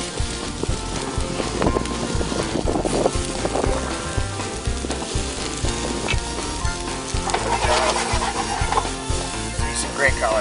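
Peppers cooking slowly in a pan, a loud, dense, continuous sizzle with crackling and occasional stirring noises close up throughout.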